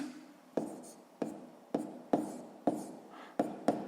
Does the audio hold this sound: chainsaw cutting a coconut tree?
no